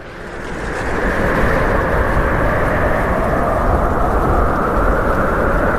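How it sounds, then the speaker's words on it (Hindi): Heavy rain pours down in a steady, dense roar with deep rumbling thunder beneath it, loud and unbroken for several seconds in an animated village story scene, with no speech. "आज तो बहुत बारिश हो रही है"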